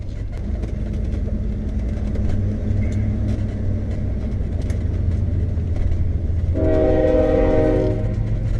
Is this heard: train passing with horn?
yes